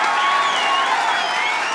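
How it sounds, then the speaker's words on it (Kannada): Applause for a team at a village event, a short burst of dense, even clapping from a crowd. "ಜೋರಾ ಚಪ್ಪಾಳೆ ಬರಲಿ ಕ್ರಾಂತಿ ತಂಡಕ್ಕೆ ಚಪ್ಪಾಳೆ."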